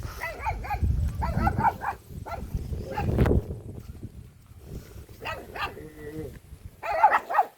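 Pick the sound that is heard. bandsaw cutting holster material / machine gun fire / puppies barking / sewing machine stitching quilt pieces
puppies barking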